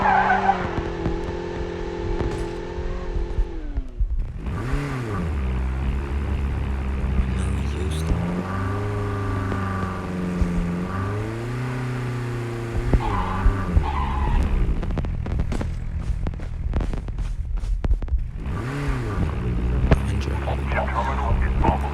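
Car driving and skidding in the Call of Duty Mobile video game, a steady engine drone rising and falling with gear shifts and sliding tire noise, loud and continuous over game music and effects.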